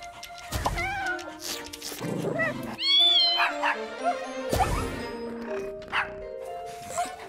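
Several kittens meow in high, wavering cries, overlapping and repeating, with a few short yips mixed in over soft background music.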